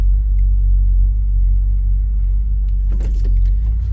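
A 1984 Chevy C10 truck engine idles close by with a heavy, steady low rumble, joined briefly near the end by a faint jangling clatter.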